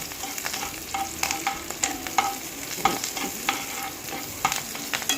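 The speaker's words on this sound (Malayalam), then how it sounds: "ഞാൻ കടുക് പൊട്ടിക്കുന്നത് കേട്ടോ" Mustard seeds, fenugreek, red chillies and shallots spluttering in hot oil for a fish curry, steady sizzling broken by frequent sharp pops and crackles throughout.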